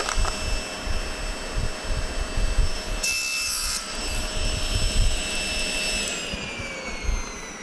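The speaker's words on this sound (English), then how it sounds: "Cut the corners." Hand sawing through wood to cut the corners of a hexagon picture frame, with steady rhythmic rasping strokes, close and loud, over a constant background hum.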